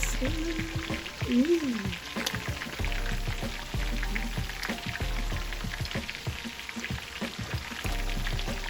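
Fish frying in hot oil for a Thanksgiving meal, a steady crackling sizzle with popping bursts throughout, close and continuous with occasional clinks of a utensil.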